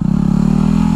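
A dirt bike engine drones steadily up close at night, a loud buzzing, pulsing motor tone holding for about a second with no one talking.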